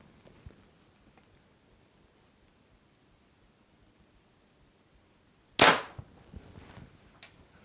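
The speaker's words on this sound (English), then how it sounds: "And then we'll shoot it again and see if we corrected it." A Bowtech compound bow with Deadlock technology looses an arrow through paper during tuning: one sharp, loud snap breaks a near-silent stretch, followed by a couple of fainter clacks.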